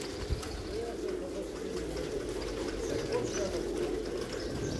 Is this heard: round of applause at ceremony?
no